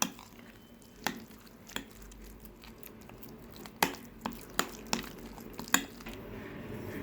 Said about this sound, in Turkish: Şöyle bir karıştırıyoruz.